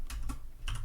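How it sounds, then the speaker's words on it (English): Close computer keyboard typing at a Linux terminal while debugging a C++ program in GDB: a couple of quick key taps, a pause, then a final pair of firmer presses like hitting enter. "you need to type next and then press enter"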